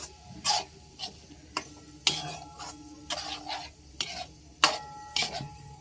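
Chicken being mixed with masala in a pan for chicken thongba: a series of sharp scrapes and clatters from a spoon against the pan, spaced irregularly over a soft sizzle.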